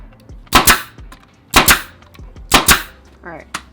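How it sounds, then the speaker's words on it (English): A staple gun fires into upholstery fabric on a chair, giving four sharp, close snaps spaced about a second apart, each with a quick double crack. "Then I'll come across here and staple along."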